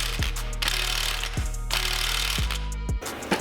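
An impact gun hammers at a steel bolt seated in aluminium on the rear beam of an Escort Cosworth, a loud continuous rattling buzz broken by brief pauses where the tool spins down and restarts.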